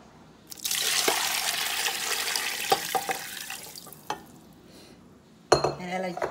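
Ten cups of water pour into a soup pot for vegetable beef soup, a broad rushing splash lasting several seconds, then fading, followed by a few clinks of pot and utensils near the end.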